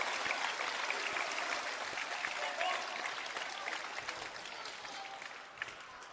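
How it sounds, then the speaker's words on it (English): Sustained applause from a live wrestling crowd fills the whole stretch at a steady, dense level, with scattered shouts and cheers mixed into the clapping. "Clap for this man"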